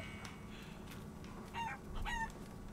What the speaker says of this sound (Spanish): Sí, sí, oigo las gallinas